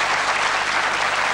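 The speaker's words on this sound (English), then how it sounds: "Give them a round of applause" Studio audience applause on a 1985 Bullseye darts game show, a dense, steady wash of many hands clapping at full volume throughout, with no voices over it.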